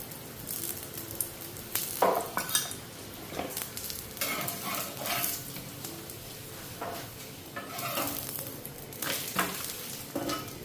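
Food fries in oil in a pan at home, a continuous sizzle with repeated scraping and stirring strokes and occasional utensil knocks, close and moderately loud.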